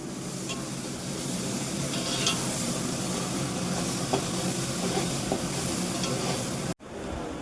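Onion frying in a pan for pulao, stirred continuously: a dense, steady sizzle with scraping and clinking of the spatula, close and loud, cutting off abruptly near the end.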